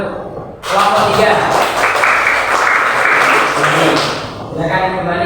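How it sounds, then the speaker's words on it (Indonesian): A class of fifth-grade students applauds group 3 in an Indonesian school lesson, a dense burst of clapping that starts sharply after a brief pause, holds steady for about three seconds, then fades as voices come in. "Tepuk tangan untuk kelompok 3."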